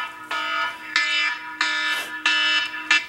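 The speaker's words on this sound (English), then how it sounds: "That's my old man alarm." Reminder alarm beeping loudly and clearly in a home setting, five evenly spaced electronic tones about half a second long, with no talk over them.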